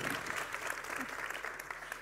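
Audience at a local-election campaign meeting in Poznań applauding a minister, steady and even clapping from a crowd, sustained throughout and fairly distant.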